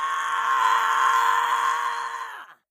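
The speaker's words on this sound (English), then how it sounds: "screaming" One person screams, a sustained, loud, steady cry lasting over two seconds before it cuts off abruptly, heard alone without other sounds.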